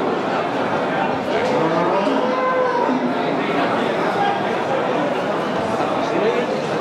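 Cattle at a livestock market in Banjarnegara low and moo repeatedly, several overlapping calls rising and falling against a busy crowd murmur, with people talking throughout.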